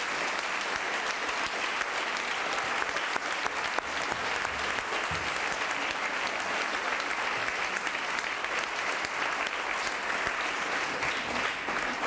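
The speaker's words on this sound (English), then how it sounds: "I'd just like you all to give a brief applause to these good people." A conference audience at a closing plenary gives steady, sustained applause for about twelve seconds, dense even clapping from a large room with a faint voice barely audible beneath it.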